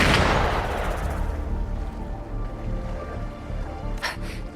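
Video game gunfire, a loud blast at the start decaying into a rumbling tail, followed by a few sharper distant cracks near the end, with no voices.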